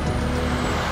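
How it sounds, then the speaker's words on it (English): A logging truck rushes past on a riverside road, a loud, dense roar of engine and tire noise that fills the whole moment, close and steady, with no voices. "One of many logging trucks."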